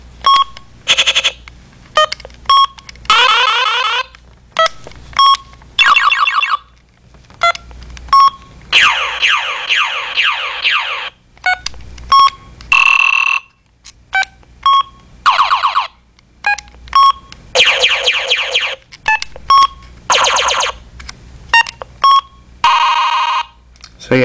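Short electronic beep tones from a V-mode brace toy, pressed in quick groups, each button a distinct pitch, with brief pauses between bursts; loud and close.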